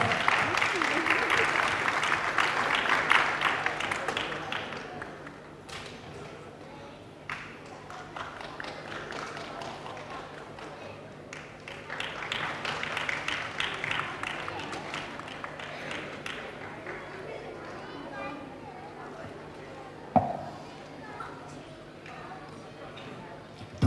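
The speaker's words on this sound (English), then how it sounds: "Round of applause." Audience applause at an event, a broad burst of clapping that swells and fades twice over the span, with a steady low hum underneath and a sharp knock near the end.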